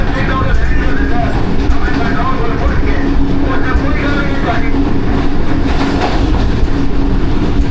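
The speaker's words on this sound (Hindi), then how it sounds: "चक पिराने से पास हो रही है ट्रेन हमारी" A train rolls past near Chak Pirana, its loud continuous rumble and rhythmic clatter of wheels on rails filling the whole stretch, with a voice talking over it.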